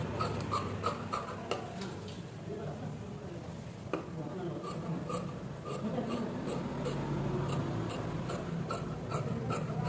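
Scissors cutting blouse fabric on a table make quiet rasping snips and scraping strokes, a series of soft, irregular cuts with low background hum.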